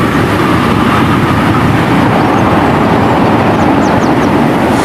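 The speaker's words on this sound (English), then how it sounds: "The 6:30 a.m. goods train from Messina in South Africa to Beira Bridge in Zimbabwe." A goods train running from Messina, South Africa, across the Beira Bridge into Zimbabwe makes a loud, steady rolling rumble of wagons, continuous and unbroken from start to finish, with no voices.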